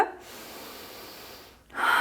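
Deep breathing during a yoga back-stretching exercise: a long close exhale fades into quiet, then a sharp inhale follows near the end, heard alone without speech.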